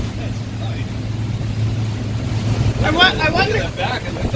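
A motorboat cruises at speed, about 20 knots, with a steady low engine drone, rushing water and wind buffeting the microphone. Voices talk over it in the second half.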